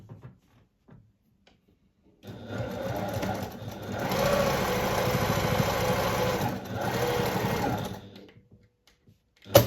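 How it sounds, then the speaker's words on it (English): A sewing machine restitches a bag seam closer to the original stitching, a close, steady whirring hum of rapid needle strokes lasting several seconds with a brief dip in the middle before stopping. "sew that again a little bit closer to the original seam"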